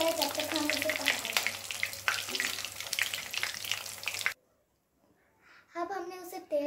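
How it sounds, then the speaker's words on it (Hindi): Bread gulab jamun fry in hot oil with a busy, close sizzle and occasional stirring clinks, then the sound cuts to near silence before a faint voice and clatter return. "तो हमने ये तेल में डाल चुके हैं, और जब तक ये ब्राउन कलर होता है तब तक हम इसे पकाएंगे"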